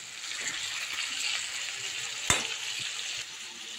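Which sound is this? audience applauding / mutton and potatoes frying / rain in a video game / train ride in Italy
mutton and potatoes frying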